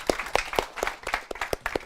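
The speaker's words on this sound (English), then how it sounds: "let's give a big applause from Andreas at Mood Social from Sweden" A few sparse, distinct claps at an online accelerator demo day, close and fairly light, with irregular spacing and no crowd roar behind them.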